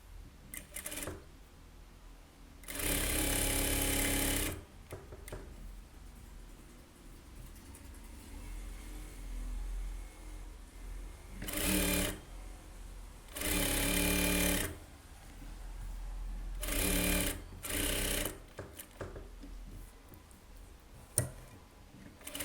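A tailor's sewing machine stitches a lining blouse in several separate runs, each a loud, steady, buzzing whir lasting a second or two, with quiet pauses between bursts.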